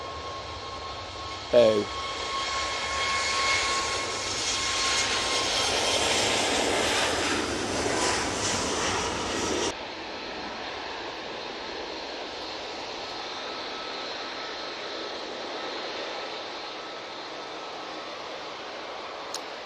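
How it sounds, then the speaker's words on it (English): A Ryanair Boeing 737 Max 8 takes off with a broad, rushing engine roar that builds and holds, then drops abruptly to a quieter distant hiss; a short exclamation is heard early on. "once this Ryanair Max 8 goes out"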